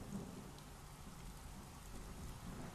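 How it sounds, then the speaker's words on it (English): Rain pours steadily with low rumbling thunder in a Tales of Xillia video game cutscene, a soft continuous wash of storm noise with no voices. "Ooh, I thought that was real thunder."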